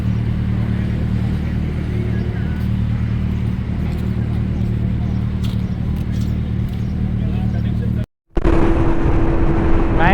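Group of big motorcycles, including a Harley-Davidson, BMW GS 1250 and R18, cruising together at highway speed, a steady loud engine drone and wind roar, with a rider talking over it and a brief dropout near the end.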